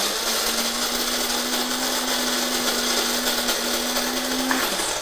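Cuisinart burr coffee grinder grinding coffee beans, a steady close motor whine with a gritty grinding rasp that runs evenly for about four and a half seconds and then winds down.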